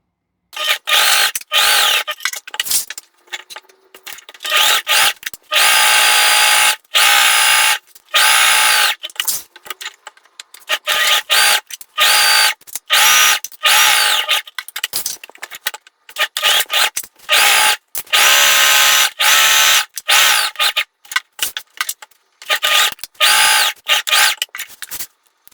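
Sewing machine stitching a straight seam on a placemat, loud close bursts of rapid mechanical whirring broken by frequent short pauses and stops.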